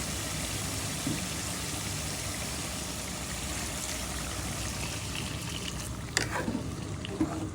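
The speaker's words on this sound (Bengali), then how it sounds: "দিয়ে দেবো পানি" Water poured into a cooking pan after salt and whole cumin have been fried, for a chicken gizzard and potato curry; a steady broadband wash of flowing water runs throughout, with a brief clatter near the end.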